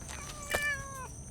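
A cat meowing outdoors, one clear drawn-out meow rising and falling, close and fairly loud against a quiet background.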